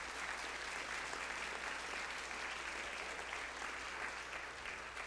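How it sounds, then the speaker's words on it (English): Keynote event audience applauds in a sustained, dense round of clapping from a crowd, even and steady throughout with no speech over it. "Give yourselves a round of applause for coming."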